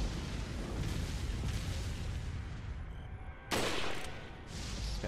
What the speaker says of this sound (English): Just gotta go for a body shot.